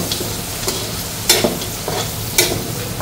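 Dinuguan, a pork blood stew, cooks in a pan in rendered pork fat, giving a steady close sizzle broken by a few sharp scraping stirs.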